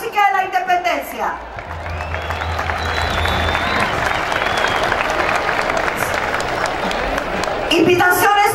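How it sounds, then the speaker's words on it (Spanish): A crowd at a band music carnival and contest in Paipa, Boyacá applauds and cheers in a sustained wash of clapping with a few whoops, framed by a voice speaking over a public address at the start and end. "un aplauso a la música de la independencia"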